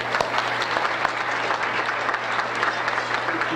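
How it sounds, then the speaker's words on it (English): Sustained audience applause at a community gala event, a dense even patter of many hands clapping with a few sharper individual claps standing out. "So can we give a big round of applause once again for Jeevan ji?"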